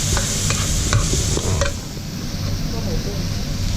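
Shrimp heads frying in a little oil in a pan for shrimp fried rice, a steady loud sizzle with quick stirring scrapes near the start, close up, with a voice faintly under it.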